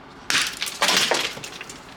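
Breakaway sugar glass is punched and shatters, a sharp crash followed by a second burst of breaking and a brief scatter of tinkling fragments, close and loud.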